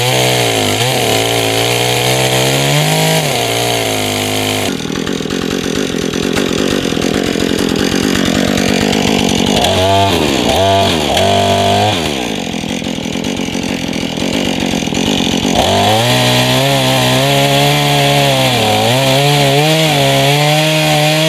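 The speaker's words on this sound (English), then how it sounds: "I got my chainsaw now." A chainsaw cutting through a wooden bridge, loud and close for about twenty seconds, the engine idling and revving between long bogging cuts as the chain bites into timber.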